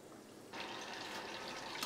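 Breaded chicken fillet lowered into hot oil, setting off a steady, loud sizzle that jumps up suddenly partway through and holds broadband and constant, with no talk over it.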